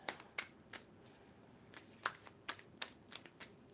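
Tarot cards are shuffled by hand in a quiet room, giving a series of soft, crisp riffling flicks and slaps with uneven rhythm and no voices.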